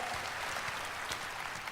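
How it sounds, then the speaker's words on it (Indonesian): Brief burst of applause from a church congregation during a sermon, dense steady clapping filling the whole moment at moderate volume. "Kita tepuk tangan dulu untuk Tuhan kita yang luar biasa."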